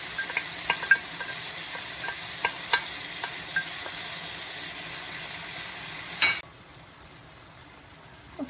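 Pre-cooked egg and tomatoes stir-fry in a wok, a dense sizzle broken by sharp spatula scrapes and clicks, until the hiss cuts off abruptly near the end, leaving quieter background.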